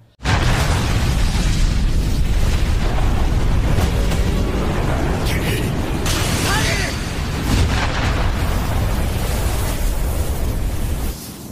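A loud, sustained cannon blast booms and rumbles, filling the scene with a heavy roar that barely fades.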